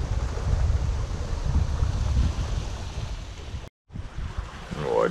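Wind and gentle water rush past a sailboat sailing on calm sea off Panama, a steady low whooshing hiss that drops out briefly before resuming.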